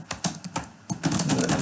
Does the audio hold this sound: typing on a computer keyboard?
yes